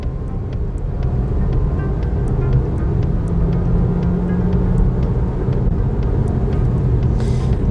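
A 2022 Jeep Compass 4xe plug-in hybrid accelerates hard in Sport mode, its engine drone steady and loud from inside the cabin, a low rumbling hum with road noise holding throughout the run.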